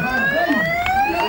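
An ambulance siren wails in rising and falling tones, fairly loud and steady, with a busy street-like background.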